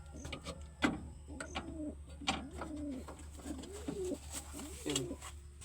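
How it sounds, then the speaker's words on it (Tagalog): Pigeons kept in a loft, one of them sick with adenovirus, coo in repeated low throaty calls at close range, with small chirps and rustling around them and no talking. "So ito na yung mga kalapati natin kalapatids."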